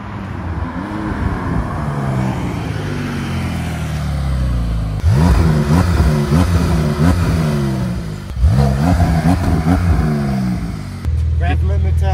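Porsche 911 Carrera 4 GTS engine revving hard, rising and falling through several loud pulls with crackling exhaust pops, heard close up with some road noise.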